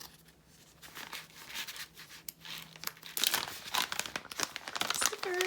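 A thick, good-quality plastic storage bag is crinkled and handled, a steady run of crackly rustling that grows louder and busier in the second half, close and with no voices.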